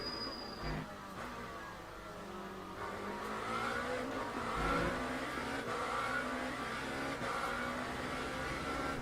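A Lamborghini race car in Le Mans Ultimate at Circuit of the Americas, engine droning and revving through gear changes at moderate distance, a continuous faint motor tone with rising and falling pitch and no talk.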